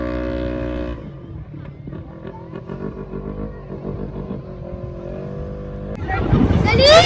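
Desert safari vehicles in the Dubai dunes roar past with a loud engine rumble that rises sharply toward the end, amid a busy crowd hubbub.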